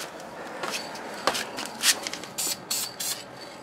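Dupli-Color Metalcast automotive spray paint hisses out in a light coat, short bursts of varying length, the last few steadier and louder, with no talking.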